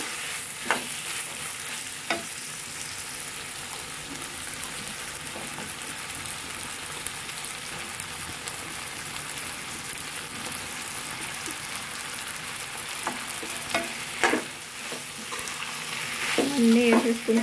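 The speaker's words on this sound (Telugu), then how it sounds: "అన్నీ వేసేసుకుని కలిపేసుకున్నాం బాగా।" A beans and broad-bean curry fries in a pan with a continuous close sizzle, broken by scraping, clattering strokes as it is stirred.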